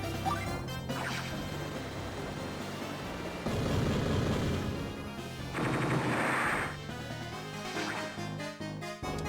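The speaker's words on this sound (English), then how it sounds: "So go ahead and fire a full salvo." A battleship fires a full salvo at an enemy cruiser in the Advance Wars: Dual Strike video game, a string of loud crashing blasts and rapid gunfire bursts over game music, without speech.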